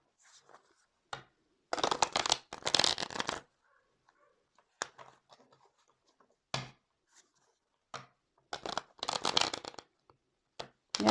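Tarot cards are shuffled by hand in a series of crisp riffling bursts separated by quiet pauses. The shuffling is close and clear with no talk over it.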